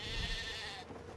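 Sheep bleating in the How to Train Your Dragon VR game, a short close call rising out of a steady game ambience and then fading.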